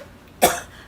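A single short, sharp cough breaks a quiet moment, close and clear, from a throat irritated by allergies.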